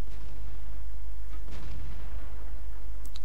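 A tank cannon shot in World of Tanks booms and lands in the dirt, a heavy muffled blast with a sharp crack near the middle, over a steady low engine rumble and no talking.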